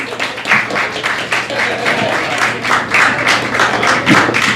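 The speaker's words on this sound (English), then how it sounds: "give yourselves a round of applause" A comedy club audience at Cafe Diem in Richmond, Virginia applauds loudly and continuously, with dense, steady clapping throughout and a few heavier thuds mixed in.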